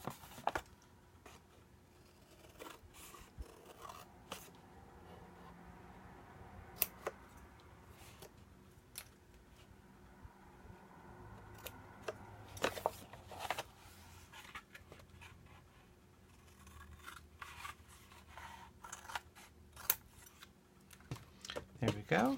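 Scissors snip through paper while trimming corner squares for a storage box insert, a series of soft, close cuts and rustles at a low level, with occasional louder crisp snips.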